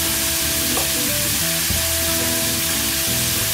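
Onions sizzling steadily in an oil-sprayed pan alongside sausage and potatoes, a loud continuous frying hiss with faint tonal hums underneath, no talking.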